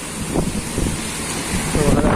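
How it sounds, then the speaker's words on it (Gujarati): A steady roar of wind buffets the microphone over a constant hiss of heavy rain in Rajkot, with occasional gusts swelling louder. "એટલો વરસાદ ને એટલો પવન છે"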